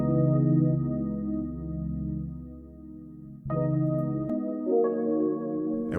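A dry Roland D50 E piano patch with no effects plays held, warm chords, one long low chord followed by a few quicker higher chord changes, moderately quiet and alone.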